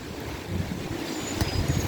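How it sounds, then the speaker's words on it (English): Wind blowing outdoors, a steady broadband rush with low buffeting on the microphone, fairly constant and moderately loud for the whole stretch with no talk. "It's windy too."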